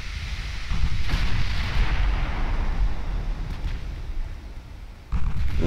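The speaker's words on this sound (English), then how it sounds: "Yeah, 69-inch guns is a lot of firepower." Large naval guns fire in a battleship game, with heavy booming blasts and a rolling rumble that carries on throughout, and a second loud shot lands near the end.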